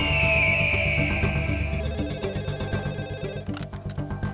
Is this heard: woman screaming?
no